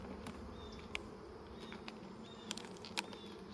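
Honey bees buzz steadily around an opened hive, a dense continuous hum with individual insects zipping close past now and then, a few soft clicks and taps of hive parts among them.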